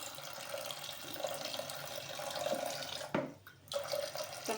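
Water pours steadily into a pot of peas set to boil, a continuous close splashing stream that breaks off briefly and then resumes, with no talking.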